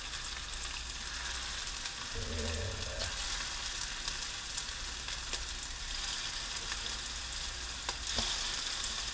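Meatballs for wedding soup frying in a hot pan, a dense, continuous close sizzle with faint crackles and a few soft clinks as pieces go in.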